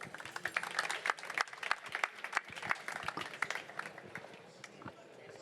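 An audience at a French summit on sustainable solutions applauds, with dense, moderately loud clapping filling the room for several seconds before slowly thinning, while a voice speaks over it.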